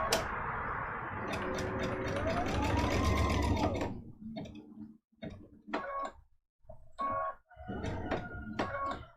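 A sewing machine stitches a scrappy Christmas stocking mug rug. A sustained whirring run with a shifting motor pitch gives way to short, separate bursts of ticking needle strokes with brief gaps between them.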